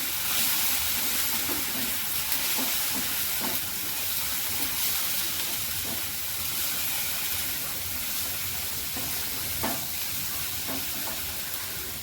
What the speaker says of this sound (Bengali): মশলাটা কষাবো।